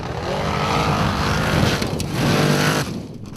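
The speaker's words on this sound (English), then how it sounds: "that's a noise you don't want to hear from your race car" An offroad race car with a failing front differential grinds and whines under load, a rough mechanical drone that rises and falls before cutting off abruptly near the end.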